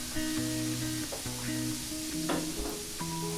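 Cauliflower pieces hit a hot pan with a steady, close sizzle, with a few light stirring clatters and a faint tonal hum underneath.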